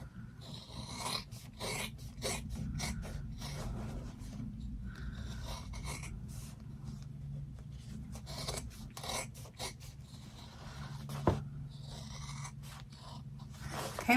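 Scissors cut steadily through quilted fabric for a zippered bag, giving a continuous close rasping, crunching texture broken by short snips and pauses, with no voice.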